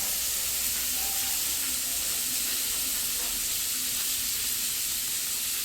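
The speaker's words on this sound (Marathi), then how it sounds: "कांदा फ्राय होईपर्यंत आपण आता पीठ मळून घेऊया चपातीसाठी." Chopped onion frying in oil in a pan, a continuous even hiss and sizzle that holds steady throughout, with no voices.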